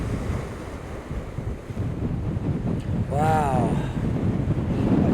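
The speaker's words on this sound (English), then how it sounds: "This is what the wind on the ocean can do when it blows." Strong wind roars over rough, surf-churned ocean water off Dartmouth on a cold early morning, buffeting the microphone in a steady loud rumble; a voice briefly exclaims partway through.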